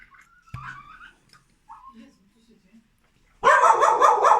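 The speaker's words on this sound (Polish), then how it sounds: "Nie, pies zauważył psa" After some scattered thumps and faint noises, a dog breaks into loud, close barking at another dog near the end, a burst of rapid barks.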